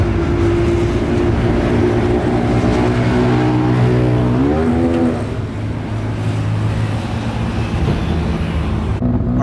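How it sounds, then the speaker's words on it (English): Truck on a road in Mexico heard from its open back bed, a loud continuous engine and road roar with wind, the engine pitch rising then dropping as it shifts midway. "we are heading home, actually in the back of a truck"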